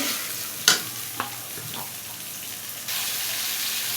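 Koi fish fry in a pan of hot oil with a steady close sizzle, broken by a few sharp spits and scraping stirs, with no talk.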